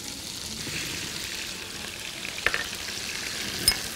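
Chopped onion frying in olive oil in a pan, a steady close sizzle throughout with a couple of brief clinks or stirs near the end.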